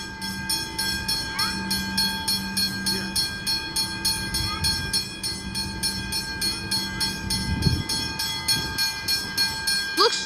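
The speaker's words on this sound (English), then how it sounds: "an outbound College train heading to Flinders Street." An outbound suburban train rolls past a level crossing in North Melbourne, its wheels clattering in a steady rhythm over about ten seconds while crossing bells ring continuously and a low horn sounds, loud and close.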